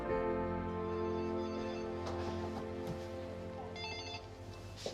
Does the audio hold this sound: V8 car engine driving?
no